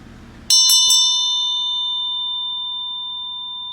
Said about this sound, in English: I also have this beautiful bell